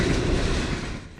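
A wildfire roars like a freight train, a dense, steady, loud rumble that fills the clip at close range with no voices.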